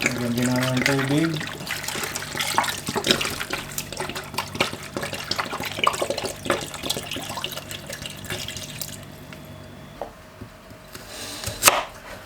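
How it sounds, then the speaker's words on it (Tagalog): Running water splashes steadily for several seconds as it is poured into a cooking pot of beef bones for pares, amid clattering kitchen noises, with a brief voice near the start and a sharp clank near the end. "Lagyan din natin ng tubig."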